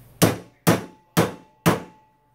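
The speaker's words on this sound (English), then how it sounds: "you need one of these, you need a hammer" A hammer taps a broken shaft extractor four times at an even, unhurried pace, each strike a sharp close metallic knock with a brief ringing decay, no voices.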